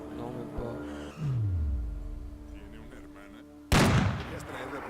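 Gunfire in a first-person shooter game: a sharp, loud burst of shots near the end, after a quieter stretch with a falling whoosh and low rumble.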